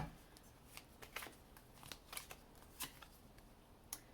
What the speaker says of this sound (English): I'm going to go ahead and finish this shuffle up real quick